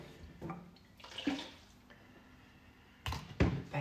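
Water splashes and sloshes in a container of pottery glaze during cleaning, with intermittent close bursts of pouring and swishing, separated by quieter pauses, and a louder slosh near the end.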